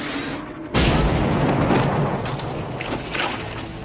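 A loud film explosion from the 1990 movie Dark Angel erupts suddenly, a single roaring blast that keeps rumbling and crackling for a few seconds before easing off.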